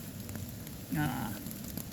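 Steady rain patters on a surface outdoors around a lunch shelter, a continuous soft hiss with a brief low voice murmuring partway through.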